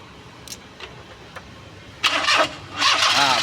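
A Perodua Kancil with a very weak battery cranks after a few faint clicks. The starter whirrs in two short bursts, then the small engine catches and runs, close and fairly loud.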